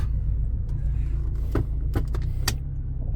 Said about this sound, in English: I really think that's the motor mount because it does shift in the gear